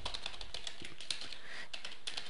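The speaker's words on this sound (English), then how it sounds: "notice I'm just typing in some of the main words there" Typing on a computer keyboard while searching an ebook library gives quick, irregular, close key clicks that run steadily throughout, with no voices.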